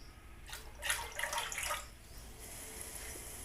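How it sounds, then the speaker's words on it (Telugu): Two glasses of water are poured into a pan on a stove to boil for a halwa, making a short close splashing pour that then fades to quiet room tone. "అన్నీ స్టవ్ పైన పెట్టేసి 2 గ్లాసుల వాటర్ని వేసి మరిగించుకోవాలి."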